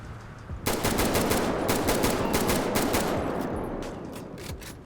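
Rapid bursts of video game gunfire, a weapon firing a quick string of sharp, evenly spaced shots after a brief quiet start, loud and close with no voices over it.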